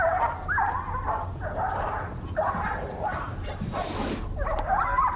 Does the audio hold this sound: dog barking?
yes